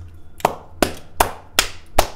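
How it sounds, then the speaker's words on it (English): Five sharp, evenly spaced hand claps ring out one after another at a steady beat, crisp and fairly close over a faint low hum. "Clap it up"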